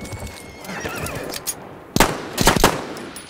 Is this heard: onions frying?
no